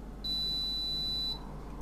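One sustained electronic beep from a BioloMix deep fryer, high and clear, lasts about a second before cutting off, and a faint background hum continues underneath.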